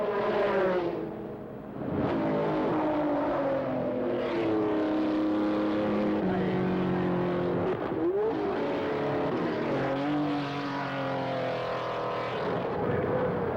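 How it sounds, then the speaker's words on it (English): Dozens of race cars led by a Martini Porsche and a Renault roar off the Le Mans start together, a dense, continuous engine drone with layered revving pitches rising and falling as the 55-car field accelerates. "55 cars altogether make the Le Mans start."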